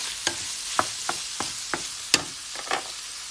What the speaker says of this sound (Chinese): 我们可以把姜和蒜放进去， 慢慢煸炒一下